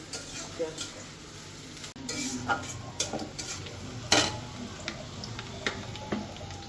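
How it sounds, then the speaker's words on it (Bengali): Ginger-garlic paste frying in a pan as it browns: a soft, steady sizzle with irregular spatula scrapes and ticking clicks, plus one sharper metallic knock midway, close by with no speech. "পেস্টটা একটু ভাজা ভাজা হোক আজকে একটু বাদামি বাদামি কালার হইল"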